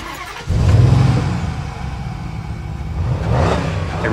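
Ford F-350 pickup truck engine catching and revving as it pulls away, a sudden loud roar that settles into a steady mid-pitched drone and swells again near the end.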